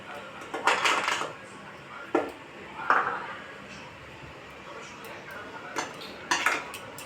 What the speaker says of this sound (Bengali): এবার বেসনটা দিয়ে আমি মেখে নেব।